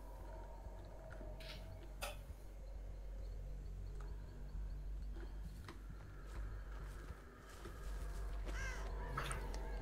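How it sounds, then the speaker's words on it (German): Ravens in the Dead by Daylight video game caw in scattered calls, some close and some farther off, over a low steady ambient hum, with no talk. "Hier waren jetzt so viele Raben."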